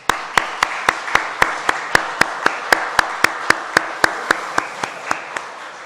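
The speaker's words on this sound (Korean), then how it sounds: "박수 한번 해드리겠습니다." A single pair of hands claps in a slow, steady rhythm during a Sunday service at a Baptist church in Daegu, about twenty crisp, evenly spaced claps close by, with no crowd swelling in behind them.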